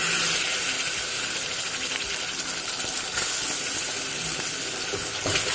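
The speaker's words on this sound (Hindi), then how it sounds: "और इसको फ्राई करना है।" Oil sizzles and crackles steadily in a pan while frying for matar ghugni, a constant loud hiss that lasts throughout at close range, with no talking.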